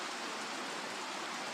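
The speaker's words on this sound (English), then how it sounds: "This is the creek." A creek's upper stream flows in a steady, dense rushing hiss, close and constant, with no voices over it.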